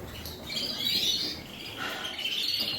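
Canaries and native finches chirp in a birdroom shed, a busy overlapping chatter of high tweets and trills carrying steadily throughout at moderate distance with no voices.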